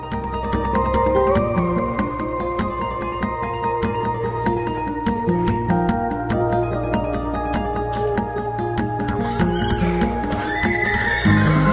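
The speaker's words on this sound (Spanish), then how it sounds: "los caballos cartujanos de largas crines que nunca pierden el compás" Long-maned Carthusian horses in Jerez, Andalusia, heard as repeated neighs and whinnies over a steady clip-clop of hooves, loud and continuous, with no speech.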